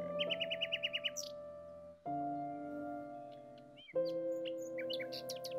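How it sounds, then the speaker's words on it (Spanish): Birds chirp and call among treetops in spring, starting with a quick run of bright repeated notes, then scattered tweets over a steady low hum. "Y entre las copas de los árboles, todavía cantan los pájaros."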